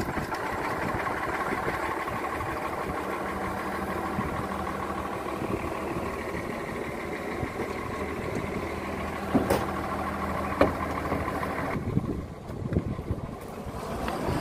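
A low truck engine idles steadily throughout, a constant rumbling drone with a few faint clicks and knocks near the end.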